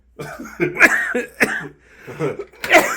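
Several harsh coughs in quick bursts, close up, with short pauses between them and a final loud cough at the end.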